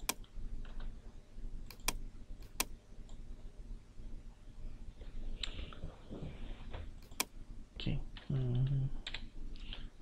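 Keys pressed on a computer keyboard while working in Excel, scattered sharp clicks and taps at an irregular pace, fairly close, with a brief voice murmuring near the end.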